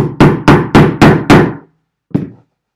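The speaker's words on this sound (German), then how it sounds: "Dann lege ich die Niete in dieses Bett aus Filz und hau da mein Hammer drauf." Hammer striking a rivet resting on a felt bed, five quick, loud, close blows in an even rhythm, then a short pause and one final hit.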